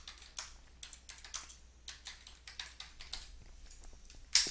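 Fingers type a checklist on a computer keyboard, a close run of light, quick key clicks in irregular bursts, ending with a sharper tap, with no voices.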